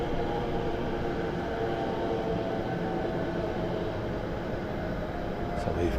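Eurofighter Typhoon jets fly past near Southend Airport, making a continuous, loud, broad roar that holds steady for several seconds without a clear rise or fall, and no voices are heard.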